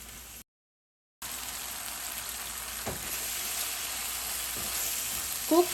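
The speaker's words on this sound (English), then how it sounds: "Cook this mixture of onion, tomatoes and palak on low to medium flame to avoid this from sticking to the pan." An onion, tomato and spinach mixture sizzles in a pan over low to medium flame, a soft, steady frying hiss with faint stirring scrapes, continuous after a short silent gap.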